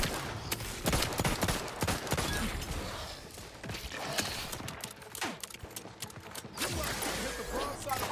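Gunfire in The Outer Worlds 2, a mix of sharp shots and rattling bursts alongside clattering mechanical noises, close and busy over several seconds, with talk mixed in.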